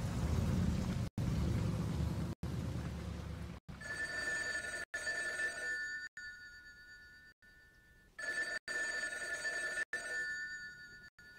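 A telephone rings repeatedly and goes unanswered, bursts of bright electronic trilling separated by short silences, fairly faint against a low rumble that fades partway through.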